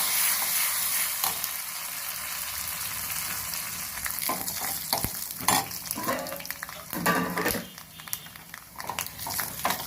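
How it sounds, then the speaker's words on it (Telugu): Dried red chillies fry with garlic in hot oil, a close, crackling sizzle with bursts of spitting and scraping stirs that grow busier in the second half. "వెల్లుల్లి వేగిపోయింది, ఎండుమిర్చి వేస్తున్నాను."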